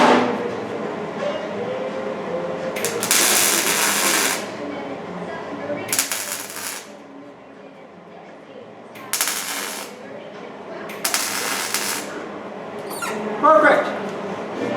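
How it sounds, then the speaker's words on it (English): A spot welder works on the body panel of a chopped 1931 Ford coupe, fitted with a 1932 Ford cowl vent. It gives several short, loud, harsh bursts of about a second each, spaced apart over a low shop rumble, with some speech between them. "Then we'll do a spot weld."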